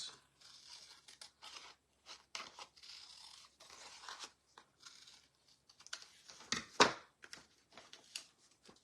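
Scissors snip through paper again and again in short, irregular bursts, rounding off corners of a decoupage piece, close and fairly quiet with brief pauses between cuts.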